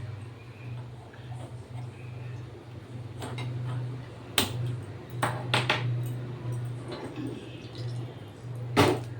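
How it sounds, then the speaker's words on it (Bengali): A gas stove burner in a home kitchen is lit, a few sharp igniter clicks and ticks sounding over a low steady hum, with quiet speech nearby. "এবার আমি এখানে এই উনুনে মানে এই গ্যাসে উনুনটা ধরিয়ে দেব"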